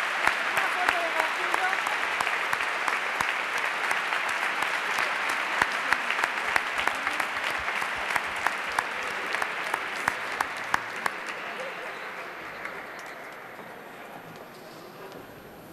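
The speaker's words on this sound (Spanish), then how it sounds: "Yo creo que el momento merece un sentido aplauso a todos" Loud, dense applause from a graduation ceremony audience for Bachillerato graduates at Egibide, sustained for over ten seconds with faint voices underneath, then gradually thinning and fading out toward the end.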